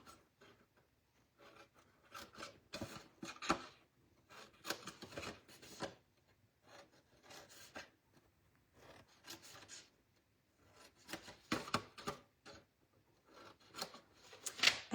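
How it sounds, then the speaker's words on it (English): Scissors snip along score lines in paper for a decorative Christmas tree craft, a close, soft run of short cuts in irregular bursts with quiet pauses between them. "Snip those score lines"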